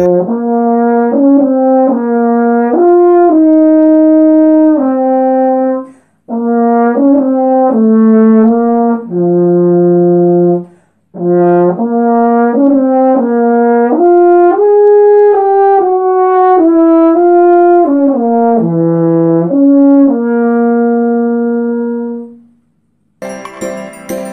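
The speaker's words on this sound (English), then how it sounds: "French horn has a long length of tubing coiled into a circular shape with flares into a bell at the end." French horn, a brass instrument with long coiled tubing flaring into a bell, plays a mellow solo melody of sustained and moving notes in phrases separated by short pauses, loud and close with no talk.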